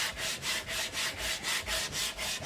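Sandpaper works back and forth over a flame maple guitar neck in quick, rhythmic strokes, about ten even scraping passes close to the mic with no talking.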